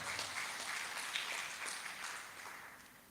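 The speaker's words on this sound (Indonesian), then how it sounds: "beri tepuk tangan dulu buat Tuhan." A church congregation at an Indonesian spiritual revival service applauds with a dense, even wash of clapping that is fairly faint and distant, holding steady for three seconds before tapering slightly.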